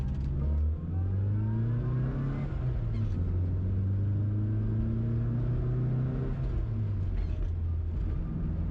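A tuned Classic Mini engine pulls hard under acceleration, its droning note rising and falling through gear changes on a road run, loud and steady from inside the car with a constant rumble underneath.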